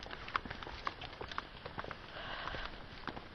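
Rain patters in a lush, tropical-looking garden near a cave in New Zealand, a dense, steady spray of light drops with scattered sharper taps close by.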